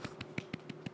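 A handful of soft, quick hand claps patter in an even rhythm, faint and muted, with no voices over them.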